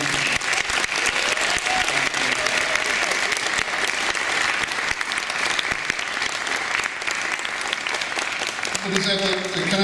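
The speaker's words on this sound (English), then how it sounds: "So please applaud for Alex Crean, Isabella Ida Martin, Fraser" Dense, sustained applause from a lecture audience at a memorial lecture and scholarship award, a loud continuous wash of many hands that runs unbroken for about ten seconds before easing near the end.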